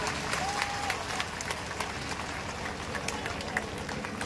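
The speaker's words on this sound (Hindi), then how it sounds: "हाथ उठाइए, जोरदार ताली बजा करके स्वागत करिए आप लोग।" At a political rally in Ambedkar Nagar, a large crowd claps to welcome new party members, a sustained, dense patter of hands with a voice audible over the noise.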